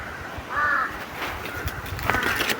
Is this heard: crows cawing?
yes